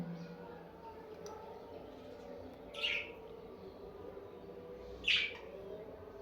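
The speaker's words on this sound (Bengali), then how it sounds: "ডরিমন দেখ পাখিগুলোকে কেমন লাগছে দেখ" Two short, high bird chirps a couple of seconds apart over a quiet, low background murmur.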